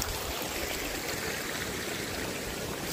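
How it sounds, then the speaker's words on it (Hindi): Water flows along a kuhl, a mountain irrigation channel feeding fields in Lahaul, making a constant, full babbling rush that stays even throughout with no voices. "ये कूल का पानी जो हम खेत कूल में लगाते हैं"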